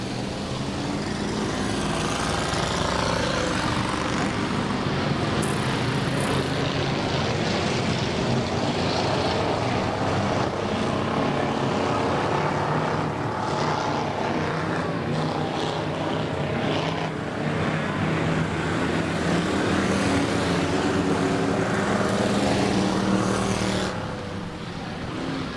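Pure stock race cars roar off at the green flag of a 1996 Labor Day Classic race at Bakersfield, California, a loud, dense engine drone sustained for the whole stretch before easing slightly at the end.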